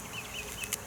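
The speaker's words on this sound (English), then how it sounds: "There's just a few bees on it." Honey bees on a hive frame give a faint, soft buzz, close by but quiet, lasting under a second with a slight lift at the end.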